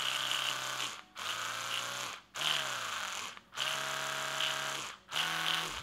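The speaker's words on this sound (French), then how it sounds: "c'est une brosse à dents électrique normale, sauf qu'elle est vraiment super intelligente" A smart electric toothbrush switched on runs in four buzzing bursts separated by brief pauses, a close, steady motor hum with slight pitch shifts between modes.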